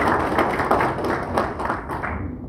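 An audience claps at a Korean certificate ceremony honouring the April 19 Revolution records, a brief, close burst of scattered hand claps that fades toward the end.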